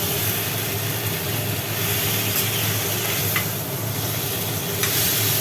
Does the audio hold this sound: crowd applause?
no